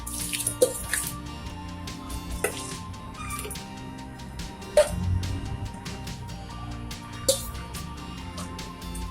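Steady running water from a tap with occasional clinks and splashes as something is rinsed, fairly close, no talking.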